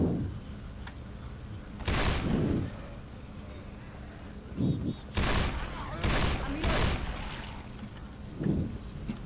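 Gunfire in Left 4 Dead 2, several loud booming bursts spaced a second or two apart, each with a ringing tail, over a continuous background game rumble.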